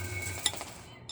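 Eggs are stirred in a bowl for hotcake batter, giving quick clinking and scraping of a utensil against the bowl in a brief, close, fairly quiet burst with no talk.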